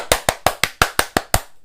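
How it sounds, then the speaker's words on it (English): Eight sharp hand claps in a steady, even rhythm, loud and close with no other sound behind them. "Clap louder. I don't hear you"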